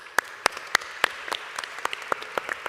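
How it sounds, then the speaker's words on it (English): A conference audience applauds a panel of speakers, sparse, distinct claps ringing out at a moderate distance, fairly light and scattered rather than a dense roar. "please join me in applauding our panelists"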